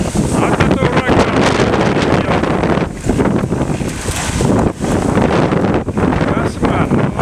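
Hurricane-force wind lifting dust and reeds pounds the microphone in heavy, roaring gusts with brief lulls, loud and close, with a voice faintly audible beneath it.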